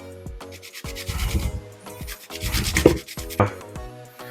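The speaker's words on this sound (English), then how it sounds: "Now, 3 cloves of garlic, and I'm gonna grate them into here." Large garlic cloves grated for a charred scallion chimichurri-style sauce, giving close, loud rasping strokes in repeated bursts of scraping friction with brief pauses between passes.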